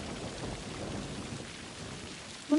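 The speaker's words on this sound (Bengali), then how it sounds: "একটু পর প্রবল বেগে ঝড় বৃষ্টি শুরু হলো" A cartoon storm brings heavy rain and thunder, a steady wash of rainfall with low rumbling underneath and a sharp sound right at the end.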